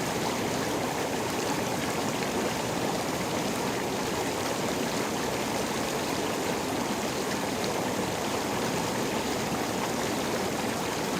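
Water runs steadily in a Coleman SaluSpa inflatable hot tub, a constant even bubbling rush at moderate level without pauses or voices.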